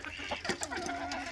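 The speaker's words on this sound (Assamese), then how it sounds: "এয়া মোৰ লোকেল মুৰ্গী হয়, পিয়ৰ লোকেল মুৰ্গী" Local farm chickens cluck in short, faint bursts, a few quick calls over a low background.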